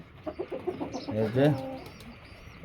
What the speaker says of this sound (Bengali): এই যে দেখেন মোরগগুলো কিভাবে পানি খায়, মোরগগুলো পানি খাচ্ছে।